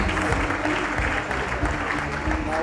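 Applause from an audience at an Indomie Independence Day award ceremony, moderately loud and continuous under a low murmur of crowd sound.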